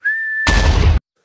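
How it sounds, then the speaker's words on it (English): A cartoon character in a Peppa Pig episode whistles one steady, clear high note, abruptly swamped by a loud, booming, explosive burst that cuts off into silence. "I'm whistling"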